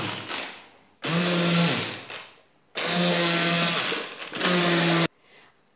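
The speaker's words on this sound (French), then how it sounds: "je prends le bras mixeur. J'essaie de mélanger d'abord ces ingrédients." A hand blender whirs through crêpe batter ingredients in three loud bursts, each a strong motor drone that starts and stops abruptly, with quieter gaps between and no talking.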